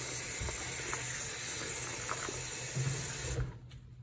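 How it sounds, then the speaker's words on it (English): Tap water runs steadily through the parts of a wearable breast pump cup and its valve at a sink, a continuous close hiss that cuts off abruptly near the end, leaving a faint quiet room. "then you're going to want to run water directly through it"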